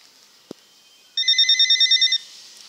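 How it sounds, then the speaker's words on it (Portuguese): Electronic telephone ringtone: a single short click, then a burst of rapid pulsed beeping tones lasting about a second, clear and close, with no talk over it. "Ó, o telefone."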